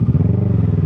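A Kawasaki ER6 600cc motorcycle is bounced on its suspension, giving a steady close rumble with soft clattering thumps from the forks and shocks.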